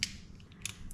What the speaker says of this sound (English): loosen them up a little bit with this flathead